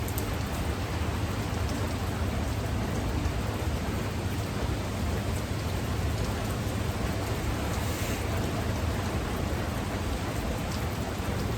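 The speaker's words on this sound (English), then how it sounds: "it has been just raining like this" Heavy rain drums steadily on a metal roof, a dense, even hiss of drops that goes on without pause, loud and close, with no talking.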